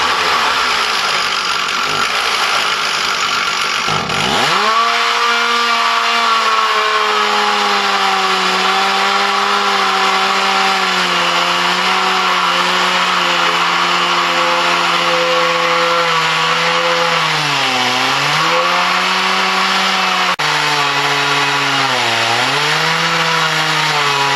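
A Logosol chainsaw mill rips beams from logs in the woods, the engine roaring loud and steady close by, its pitch sagging and recovering as the bar bites through the wood, after a brief quieter idle at the start.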